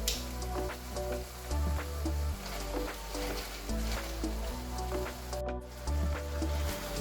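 Salmon going into a pan of roasted vegetables sets off a steady sizzle that runs throughout alongside a looping tonal background pattern, no talking.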